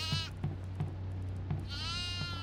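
A goat in the horror video game Devour bleats several times, loud and close, with short cries spaced through the moment and no talking over them.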